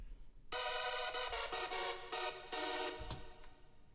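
Hardstyle lead synth layer sampled from a Virus TI preset and played in FL Studio, entering after a brief quiet start as a loud, bright sustained sequence of chords with rhythmic gaps, no voices.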